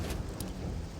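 Stormy weather in the video game Risen 2: Dark Waters, with a dense, faint wash of rain and low rumbling, steady throughout a brief moment with no voices.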